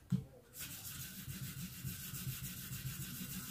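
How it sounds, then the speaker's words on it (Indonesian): Steady, rhythmic scraping of sandpaper worked back and forth over a knife blade, close up and moderately loud, with no talking. "Dia cepat kalau pakai amplas ya, tapi amplasnya amplas yang bagus gitu."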